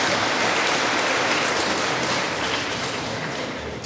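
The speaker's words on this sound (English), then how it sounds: "So a big round of applause for Holly in her absence." A school awards crowd gives a round of applause for a student, broadband clapping from many hands that holds steady and then tapers slightly toward the end.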